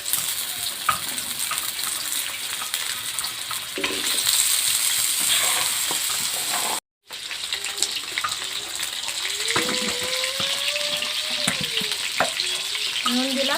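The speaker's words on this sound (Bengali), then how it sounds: "ভেজে নেব। আমি তেলটা কিন্তু বেশি গরম হতে দেব না, হালকা গরম হওয়ার পরে আমি আলুগুলো দিয়ে দেব।" Potatoes fry in lightly heated oil for a simple chicken curry, a dense close sizzle with scraping stir strokes and a short dropout partway through.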